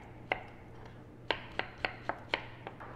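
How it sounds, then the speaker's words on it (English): A knife chops ripe mangoes on a board, a sparse run of about seven quiet, sharp taps at uneven intervals against a low steady hum. "Now let's chop the mangoes."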